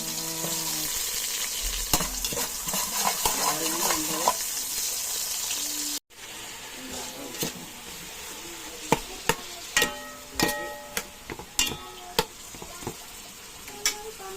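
Onions frying in a pan while sinigang with pork and jackfruit is being cooked, with a steady sizzle that breaks off briefly midway. Scattered sharp clinks and stirring knocks follow, moderately loud and close, with no talk.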